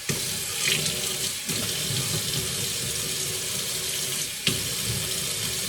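Tap water running steadily into a sink while a yellow onion is scrubbed, a constant close rush with a couple of brief bumps and splashes.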